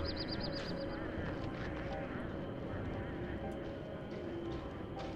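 Birds in the game Don't Starve Together, a short run of repeated high chirps at the start over a steady dense background of game ambience and noise.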